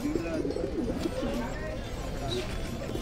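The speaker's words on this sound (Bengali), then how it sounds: "মোটামুটি খাঁচার ভেতর এই কটা পায়রা ছিল।" Pigeons cooing softly inside a cage, low murmuring coos over a busy background with voices nearby.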